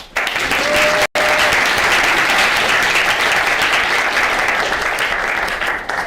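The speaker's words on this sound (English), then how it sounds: "Applause, please." Loud, dense applause from a large assembly crowd, continuous and close, with one momentary dropout early on.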